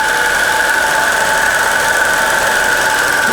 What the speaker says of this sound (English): It idles.